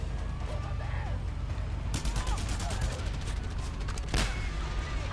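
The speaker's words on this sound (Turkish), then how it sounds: "Araba patladı." Two loud, booming blasts ring out amid steady game noise in Just Cause 2, a car exploding from a triggered bomb, each leaving a crackling, rumbling tail.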